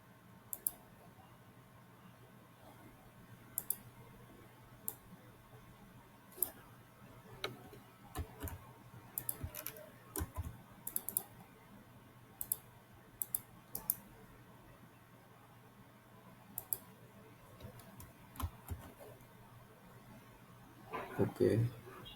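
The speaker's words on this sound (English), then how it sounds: "I click start button." Computer mouse clicks on software buttons in a WhatsApp marketing program, a scattered series of faint sharp ticks spread through a quiet room with a low hum.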